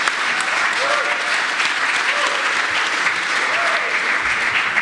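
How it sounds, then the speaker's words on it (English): A seminar audience applauds a drinks-industry speaker, giving steady, sustained clapping from many hands throughout, with a faint voice underneath. "So a nice round of applause for Jourdan."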